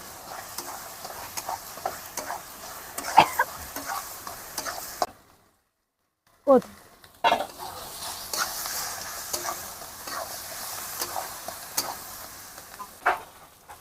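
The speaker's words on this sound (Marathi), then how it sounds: "अर्धा मिनिट भरत परतून द्यायचं याच्यामध्ये आपण बारीक केलेली वांगी टाकली" Finely chopped brinjal stirred and sautéed in a pan for bharit, a steady close sizzle with scraping stirs throughout, broken by a short silent gap midway before the frying resumes.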